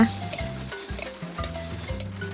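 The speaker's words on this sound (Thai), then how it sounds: "เราก็จะผัดหมูแล้วก็พริกให้เข้ากันทุกส่วนนะคะ" Grilled pork neck and dried chilies are stir-fried in a hot pan for a basil stir-fry, a steady sizzle with scraping stirs of the spatula, close up.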